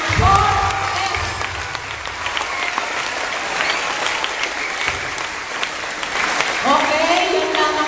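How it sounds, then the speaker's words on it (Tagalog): Loud applause from a group of schoolchildren at a school feeding-program welcome gathering, steady clapping throughout with voices and cheers mixed in. "bigyan natin ng malakas na malakas na palakpak ang mga bumubuo ng 4S"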